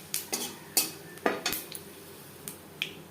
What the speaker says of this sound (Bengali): মাছ ভেজে নেওয়ার তেলে ফোড়নে দিয়ে দিলাম একটা তেজপাতা, 1/2 চামচ পাঁচফোড়ন